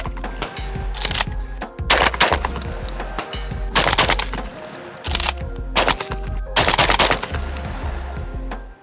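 Stoeger M3020 semi-auto shotgun firing several loud rounds in quick bursts, each sharp blast followed by echoing reverberation outdoors, with pauses between groups of shots.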